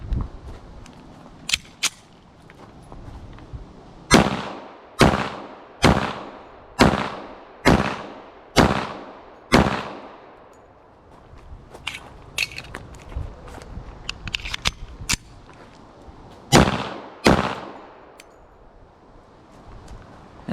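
A 1911 A1 handgun fired repeatedly, sharp loud reports in a steady string of about a dozen shots with a short pause, plus softer clanks and handling noises between volleys, outdoors at close range.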